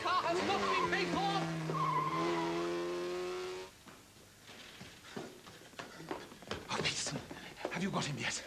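A car pulls away with squealing, skidding tires after a stretch of people shouting over sustained tones, the tire screech and engine rising loud toward the end.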